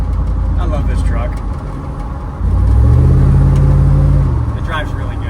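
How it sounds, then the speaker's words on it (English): A truck engine fitted with long tube headers and a custom exhaust dumped at the rear axle idles roughly, then revs up and holds a deep loud drone before settling, with people talking over it. "Long tube headers and the custom exhaust that's dumped at the rear axle."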